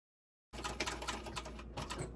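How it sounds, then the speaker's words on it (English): A sewing machine runs close by, stitching a zipper pocket facing for a bucket bag in a fast, even mechanical patter that starts abruptly after silence and continues with slight variations in pace. "So now I'm going to stitch down one side, come over, stitch down the other side."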